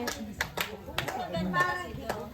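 People clapping at a birthday toast, a few sharp scattered claps over lively overlapping talk and children's voices close by.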